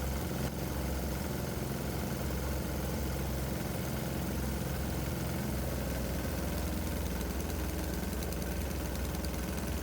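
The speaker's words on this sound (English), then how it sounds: "the engine sounds a little choppy with a load on it" A small diesel engine runs continuously under load, a steady, loud, slightly choppy rumble that stays close and constant throughout, with no speech.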